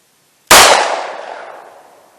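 A single loud shot from a Colt Compact 1911 in .45 ACP, fired at ballistic gel with a Sig V-Crown round, cracks sharply after a brief silence and rings out in a long, fading tail.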